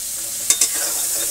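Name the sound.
crab legs frying in a pan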